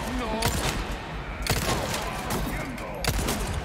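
Gunfire from the Resident Evil 4 Remake video game, several sharp shots at roughly one-and-a-half-second intervals over constant game noise, with a voice talking faintly underneath.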